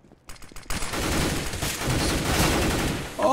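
Dense bursts of video game gunfire crackle loudly and almost continuously after a brief quiet opening, with no talk over them.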